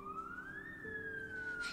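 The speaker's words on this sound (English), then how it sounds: "I have police sirens, though." Police car siren wailing nearby, a single rising and falling electronic tone sweeping over a low background hum, fairly steady and prominent.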